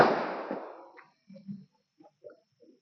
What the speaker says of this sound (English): There is some firecrackers going on with some kind of festival here.